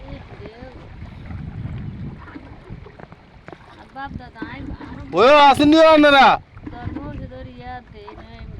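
A boat moves on open water in wind near a village in Manoharganj, with a low churning wash and gusty wind noise beneath several people talking and one loud voice calling out.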